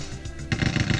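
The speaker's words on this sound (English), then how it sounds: "Who decided that was the sound of picking up a weapon?" Weapon pickup effect in the Rise of the Triad shooter game: a sudden loud burst starts halfway through, with rapid rhythmic booming pulses after a quieter stretch of game noise.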